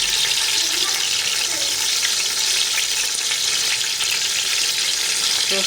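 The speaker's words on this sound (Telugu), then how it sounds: "అన్నీ వేయించుకొని" Vegetables with tomato frying in a pan for veg biryani, a steady hissing sizzle heard close and continuous with no clear talk over it.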